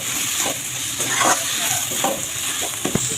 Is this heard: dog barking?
no